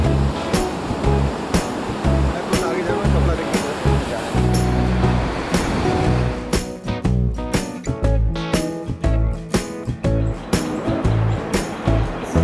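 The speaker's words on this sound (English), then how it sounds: "I was off to my semi-private beach" Surf breaks steadily on a Sri Lankan beach, a loud continuous wash with rolling low rumble and rougher gusty bursts in the second half, sounding close and unbroken.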